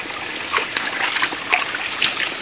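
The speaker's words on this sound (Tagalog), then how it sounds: "Minsan yung tubig umaapaw." Water flows and splashes along a rural irrigation channel in a village, giving a steady close trickling, sloshing rush with no voices.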